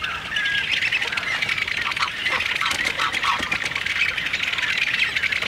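Many birds squawk and call continuously at a heronry beside reeds where a large crocodile hunts, a dense, steady chorus of harsh cries and chirps with no speech.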